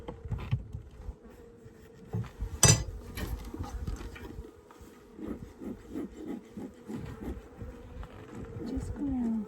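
Honey bees buzz around an open 20-frame horizontal Layens hive during an October inspection, a faint steady hum with individual bees droning close by, along with wooden rubbing and knocks and occasional speech.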